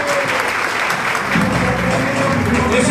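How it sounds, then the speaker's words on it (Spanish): Audience applause at a political rally in La Romana: a dense, steady wash of clapping from a large crowd, loud and continuous, swelling slightly toward the end. "Que se sienta ese aplauso, señores míos."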